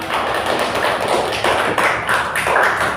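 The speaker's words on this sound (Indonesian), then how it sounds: "Tepuk tangan." A class of children claps hands together in a classroom, a dense, loud patter of overlapping claps that comes in rhythmic bursts with short pauses, close and continuous with no talk.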